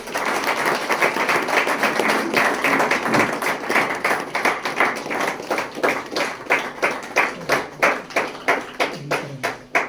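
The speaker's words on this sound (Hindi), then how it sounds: "जोरदार ताली हो जाए।" Applause from a group that starts thick and thins into slower, distinct claps, ending in a rhythmic few hand claps near the end.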